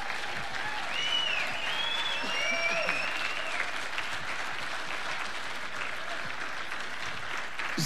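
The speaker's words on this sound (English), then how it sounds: "please give them a good round of applause." A crowd applauds 12th graders at a school awards ceremony, sustained even clapping for several seconds with faint voices and whistles mixed in.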